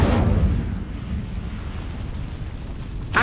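Incendio fire spell cast in Hogwarts Legacy: a loud whooshing burst of flame that roars, fades into a low rumbling hiss, then flares briefly again at the end, with no voices.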